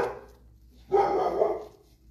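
A neighbor's dog gives one short, fairly close bark that stands out alone against a quiet room.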